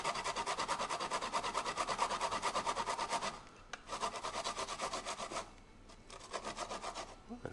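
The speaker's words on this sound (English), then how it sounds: "use this thing and grate the garlic" Garlic is rubbed against a grater in quick rhythmic rasping strokes, close and steady, with a brief pause and then more scraping.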